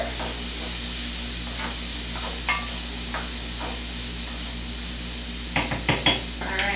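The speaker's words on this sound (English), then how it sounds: "we're going to add our onions to the pan. So we're going to saute the onions up." Onions sauteing in a pan give a steady sizzle and hiss throughout, with a few soft spoon scrapes and stirring clatters near the end.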